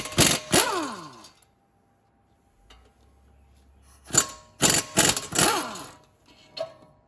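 Short bursts of an impact wrench rattling as it removes brake bracket bolts on a Jeep Grand Cherokee, two at first, a pause, then several rapid whirring bursts close up and loud.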